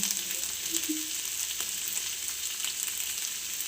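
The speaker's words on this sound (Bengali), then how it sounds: "এখন আলু ভাজা করছি" Potatoes frying in a pan, a continuous crackling sizzle up close with a faint clink from the utensil, no talking.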